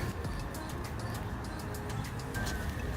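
Birds calling at night on a street in Cairns, Australia, a series of short, repeated high calls over a steady low background hum, moderately faint.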